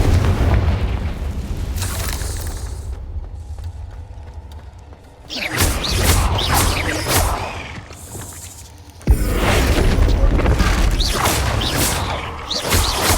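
Repeated Confringo fire spell blasts in Hogwarts Legacy, booming explosions set in a cave, loud bursts in two heavy clusters separated by a quieter stretch, with debris-like crackle trailing each volley.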